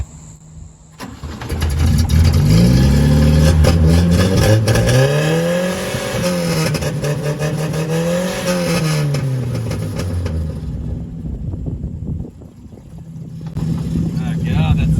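A shop ute engine revs hard and loud, close up, its pitch sweeping up and down through repeated high-rpm surges before settling into a rough idle, with another burst of revving at the end.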